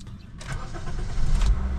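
A car whose exhaust drips water starts up: the engine cranks briefly and catches, then settles into a loud, close, steady idle rumble with no speech.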